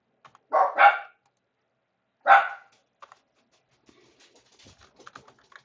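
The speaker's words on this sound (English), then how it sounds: "Sorry in advance for the barking." A dog barks close by, two quick barks followed by a third after a pause, then faint light tapping and clicks trail off in a quiet room.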